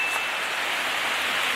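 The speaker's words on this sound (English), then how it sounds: "Pissing it down with rain" Heavy rain pouring down outdoors, a dense, steady hiss of drops striking surfaces, loud and unbroken from start to end.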